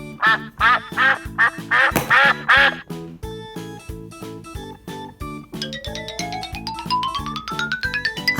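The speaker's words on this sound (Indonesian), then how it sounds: "bebek" A duck quacks in a quick run of five or six loud, nasal calls, set over a bouncy children's music backing that continues with a rising melodic line after the quacking stops.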